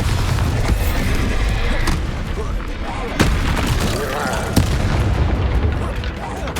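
Bombarda spell blasts in Hogwarts Legacy, a few sharp booming impacts over dense, loud continuous combat noise.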